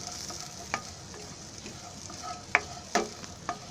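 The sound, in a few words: stirring cumin and onion dry-roasting without oil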